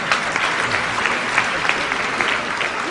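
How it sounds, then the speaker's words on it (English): An audience at a philanthropy medal ceremony claps steadily for three seconds, with dense, sustained applause filling the hall. "yes, he deserves a round of applause."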